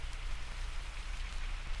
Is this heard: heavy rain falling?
yes